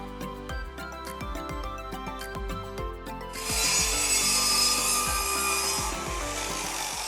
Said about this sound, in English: I'm going to start cutting some battens to go down the sides for our struts to sit on.